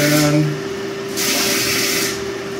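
Bidet toilet seat washer in a remodeled bathroom spraying water, a steady hiss with a faint tonal hum beneath that swells louder partway through, close and without speech.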